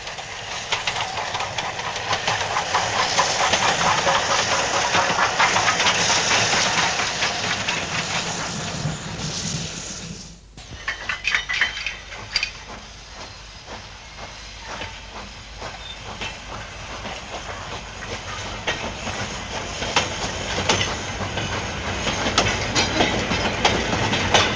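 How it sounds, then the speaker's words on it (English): A British steam locomotive, Oliver Cromwell, runs light on the railway with a loud, continuous roar and hiss. The sound drops briefly, then gives way to a rhythmic clatter of wheels over rail joints. "Oliver Cromwell then ran light to Bressingham Steam Centre to retire from active service."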